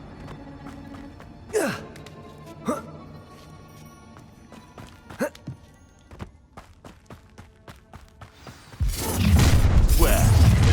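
A Bombarda blasting spell in the Hogwarts Legacy video game: scattered sharp whooshes and thuds give way to a sudden, loud, roaring burst that rumbles on steadily to the end.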